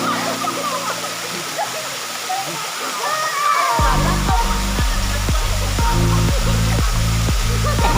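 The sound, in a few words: Maruyan waterfall in Bangka with bathing and splashing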